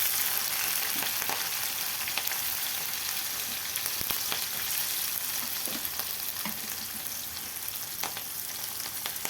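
Cumin and green chillies frying in oil for Maharashtrian ulta vada pav, a steady close crackling sizzle with scattered sharp pops and occasional stirring scrapes throughout, no talking.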